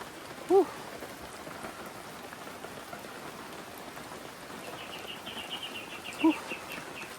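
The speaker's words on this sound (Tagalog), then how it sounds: "Grabe lakas ng ulan." Steady, dense rain pours down throughout, with two brief bird calls standing out above the downpour.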